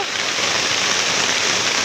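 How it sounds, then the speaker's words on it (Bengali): Steady rain falls outdoors while someone shelters under a tree, making a dense, continuous hiss of drops that stays even and fairly loud throughout, with no talking. "বৃষ্টি পড়ছে তাই দাঁড়িয়ে আছি যাওয়া হচ্ছে না বৃষ্টির জন্য"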